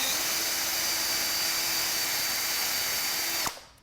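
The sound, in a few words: power drill drilling into wood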